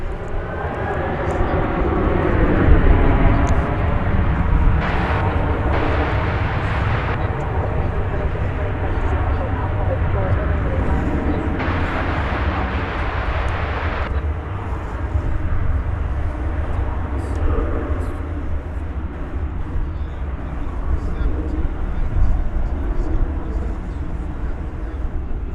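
An American Airlines airliner takes off from DFW Airport bound for Salt Lake City, its loud jet engine roar rising and holding steady across the runway while someone talks over it.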